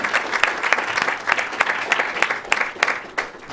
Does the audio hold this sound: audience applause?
yes